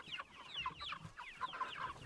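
Six-week-old Cornish Cross meat chickens give soft, quick repeated clucks, faint and moderately distant, without any voices.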